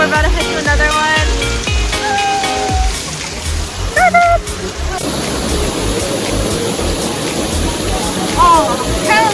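Waterfall in Jaco, Costa Rica, a continuous loud rushing of falling water that fills the whole clip, with people's voices briefly over it.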